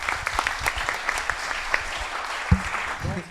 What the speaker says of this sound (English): a big round of applause for him because he deserves it